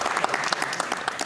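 A small audience at a theatre rehearsal claps in a brief burst of scattered, fairly close handclaps at moderate volume, with no speech.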